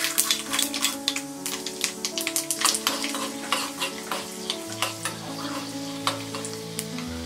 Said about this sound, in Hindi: तेल गरम हो गया है, अब हम इसमें डालेंगे ये राई, जीरा, चना दाल